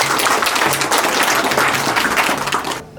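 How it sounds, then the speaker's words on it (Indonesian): Audience applause at a traditional adat gathering hosted for the Lampung regional police, dense steady clapping for nearly three seconds before cutting off abruptly. "Kita tepuk tangan untuk bersama."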